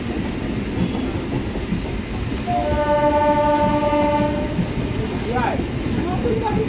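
A train passes near a busy roadside food stall, a rumbling rail roar with a sustained horn blast in the middle, loud and close, while people chatter nearby.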